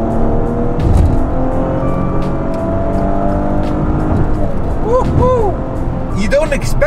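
A Maserati Ghibli on the move, its engine droning steadily with a low continuous hum and tyre roar, while someone talks over it throughout, the pitch rising as the car accelerates near the end.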